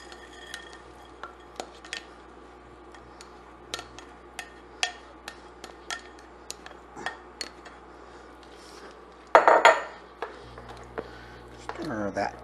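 A spoon stirs potatoes and corn together in a metal pot for corn chowder, making scattered light clinks and scrapes at a slow pace, with a louder clatter near the end and a brief voice in the background.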